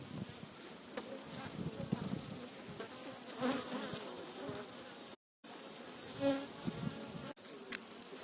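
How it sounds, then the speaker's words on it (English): Honey bee swarm buzzing densely and continuously near the hive and queen cells, with brief higher tonal toots standing out that fit queen piping; a short dropout midway. "sound of queen piping."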